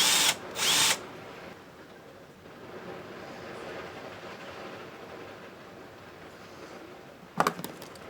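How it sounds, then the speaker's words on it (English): A power drill bores out a part on a Fender 300 PS amplifier in two short, loud bursts right at the start. Quiet room noise follows, then a brief clatter near the end. "I should have drilled it out further before pulling it."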